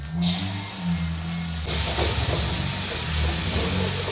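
Oyster sauce and shrimp paste sizzle in a hot pan with curly chili, a steady loud hiss that jumps louder partway through as the sauce hits the oil.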